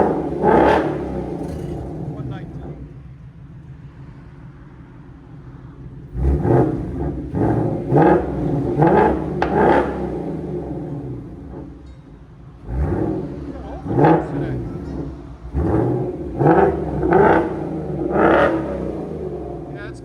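A 2024 Mustang GT with a Borla cat-back exhaust revs loudly and close by in two bursts of repeated blips, each rising then falling back to idle. Voices talk in the background between the revs.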